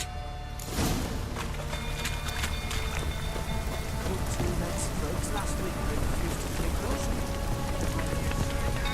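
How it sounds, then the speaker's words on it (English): Steady rain pours down in a dense, even hiss that holds throughout, with occasional louder drops and splashes close by, in the video game The Witcher 3: Wild Hunt. "Looks like rain."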